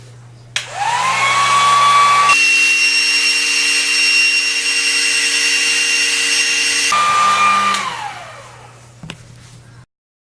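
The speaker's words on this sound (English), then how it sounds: "I'm going to go ahead and be using this heat gun here to dry it." A handheld heat gun blows over a freshly screen printed shirt, a steady loud whirring hiss that runs for several seconds, shifts pitch as its setting changes midway, then winds down and cuts off near the end.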